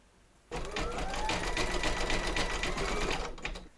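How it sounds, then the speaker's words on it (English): An embroidery sewing machine stitches a zigzag join on a hooped vintage sewing machine design, starting abruptly and running a fast, even mechanical whirr with rapid needle ticks for about three seconds before slowing to a stop. "We're now going to pop our hoop into our machine and stitch round number 7, and that's going to zigzag along here"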